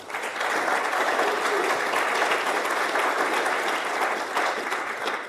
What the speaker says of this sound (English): if everyone could give a round of applause for John, Jarrett, Ava, and the whole team